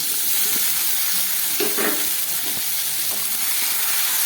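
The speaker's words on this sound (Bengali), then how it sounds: "আবার খানিক্ষণ আমি এটাকে ভালো করে ভেজে নিচ্ছি পেঁয়াজটাও খুব ভালো করে ভেজে নিলাম" Onion and tomato frying in hot oil with potatoes while being stirred in a pan for a spicy tangra fish curry, a loud continuous sizzle with occasional scraping stirs, close by.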